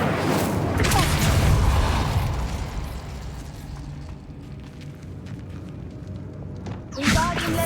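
Incendio fire spell cast in Hogwarts Legacy: a loud whooshing burst of flame that rumbles and fades, with crackling bits and a sharp magical flare near the end.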